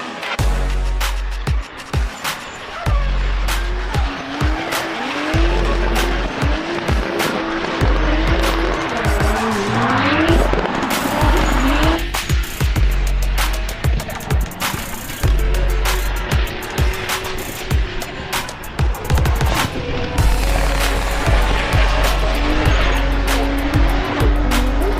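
A drift car at a DMP drift event in Słomczyn slides at a big angle and speed: a loud, sustained engine roar with rising and falling revs under continuous tire squeal, close and dominant throughout.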